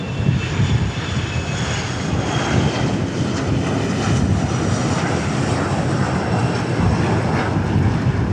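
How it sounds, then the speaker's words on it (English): American Airlines jet airliner at DFW airport passing by with a loud, steady broadband engine roar that fills the whole stretch without letting up. "Christian Christensen says Flight American 2286, which is, of course, this flight since we're at DFW."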